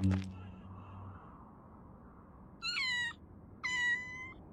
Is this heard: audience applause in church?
no